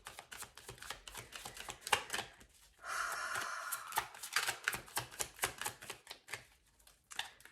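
Close, rapid riffling and flicking of tarot cards, a burst of quick snaps followed by a smooth sliding shuffle, then more crisp taps.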